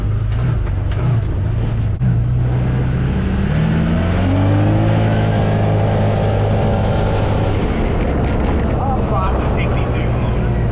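A car drives loudly from inside the cabin the day after a race in Australia, its engine droning and revving with rising pitch under a constant road roar, while people talk over it.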